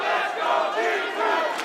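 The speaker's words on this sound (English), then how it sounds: "Crowd coming to life." A large esports arena crowd at the Rainbow Six Siege Six Invitational Grand Finals between Team Empire and G2 roars and chants loudly, a dense sustained swell of many voices.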